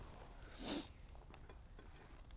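Food cooks directly over hot coals on a rekindled fire, giving a faint, steady sizzle and crackle with one brief louder flare near the start.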